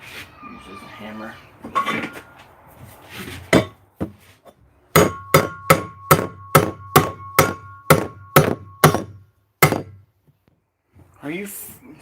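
Hammer blows on a dump truck part ring out in a fast, even series of about ten loud metallic strikes, after a few scattered knocks and some talk.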